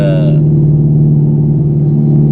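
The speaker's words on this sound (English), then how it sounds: "So we have now engaged track mode, which makes it louder. A lot louder." A Dodge Charger Scat Pack muscle car exhaust in track mode: a deep, steady engine drone with a throaty low rumble, loud and close, holding a constant idle-like note throughout.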